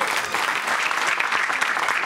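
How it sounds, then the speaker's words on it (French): A studio audience breaks into dense, steady clapping on a French talk show, loud and close, sustained throughout without a clear voice over it. "On va réapplaudir Kinvey qui vient de faire."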